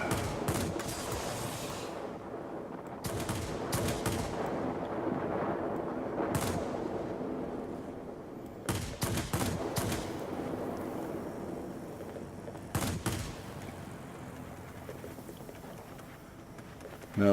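Aircraft guns fire in World of Warplanes in repeated loud, harsh bursts of a second or two each, separated by quieter stretches with steady engine drone beneath them.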